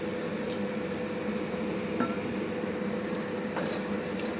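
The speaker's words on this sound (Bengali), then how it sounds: "এবারে জল আর একটু দেব" Water is poured into a simmering egg and potato curry, a continuous liquid wash over low bubbling with occasional light clinks of a utensil against the pan.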